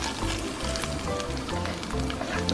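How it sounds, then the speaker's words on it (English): Vegetables stir-fry in a hot pan with a dense, continuous sizzle and crackle, close and fairly loud, with scattered pops and scraping throughout. "I'm just gonna quickly stir fry these veggies"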